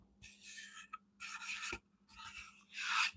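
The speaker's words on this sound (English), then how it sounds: "didn't really need to sand this top surface because it's going to be covered in plexiglass" Sandpaper rasps across a flat wooden top surface in four short bursts of rubbing strokes, close and fairly quiet, with pauses between passes.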